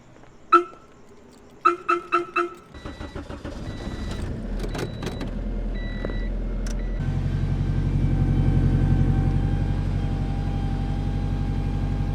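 A Honda Civic starts with a few sharp clicks and a crank, then its engine idles and revs up into a steady, loud mechanical drone close by, with no talking.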